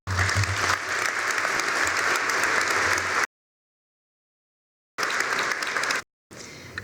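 Graduation ceremony audience applauding steadily and loudly for about three seconds, then silence, followed by another short burst of sustained clapping that breaks off and resumes faintly at the end.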